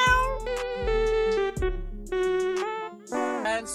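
Cat meowing close up, a run of about five drawn-out, tonal meows with short gaps, ending in a rougher, higher cry, with no people talking.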